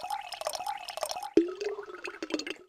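A Yamaha TG33 synthesizer playing its factory patch named Water 1, giving a watery, dripping synthetic tone with wavering pitch and a sharp plucky attack midway, heard alone at moderate level.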